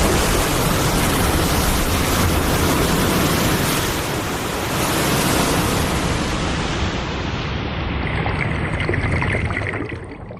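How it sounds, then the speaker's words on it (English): Rushing water surges in an audio drama, a loud, dense, continuous roar like a flood pouring in, holding steady before thinning out near the end. "Oh, it's water."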